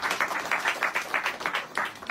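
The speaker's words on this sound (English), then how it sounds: "Round of applause, ladies and gentlemen." A round of applause from an audience at a gathering of Igbo elders, rhythmic and moderately loud clapping that carries on steadily for a couple of seconds.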